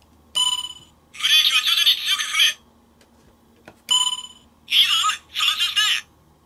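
Electronic sound effects from a Tomica Earth Bress transformation toy, shrill buzzing synth bursts played close and loud, one long burst then a pause, followed by several shorter stuttering bursts, with no voices.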